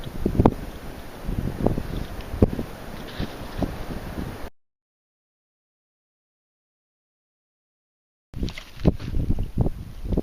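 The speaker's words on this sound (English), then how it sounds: "Still very windy." Gusty wind buffeting the microphone outdoors in a Wisconsin field, rumbling and rushing, cut by a few seconds of dead silence before resuming.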